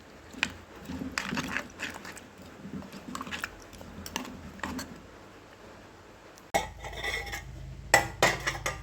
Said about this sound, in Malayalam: ഇതെല്ലാം കൂടെ നമുക്ക് അടുപ്പിലോട്ടൊന്ന് ഇളക്കി വയ്ക്കാം